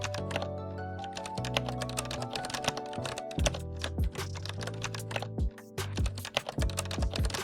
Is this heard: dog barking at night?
no